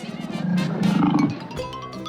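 A recorded lion lets out one loud, close roar with a deep rumbling swell and a fade, played back in a sound-themed room of a Lviv-inspired restaurant.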